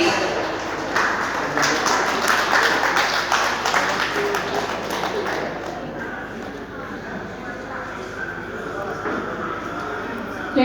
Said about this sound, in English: A big hand, a round of applause for Priyadarshini, please.